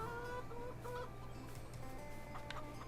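Baby chickens in the Farming Simulator 22 farming game cluck and peep softly, with repeated short chirping calls over a steady low background hum, fairly faint and continuous.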